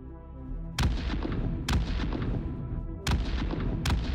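Bombs exploding in the space game Star Citizen, four sharp, loud booms spaced unevenly, each followed by a long rumbling decay, with no voices.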